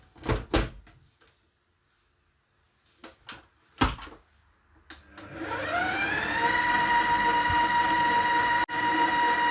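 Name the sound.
mixer mixing chocolate cake batter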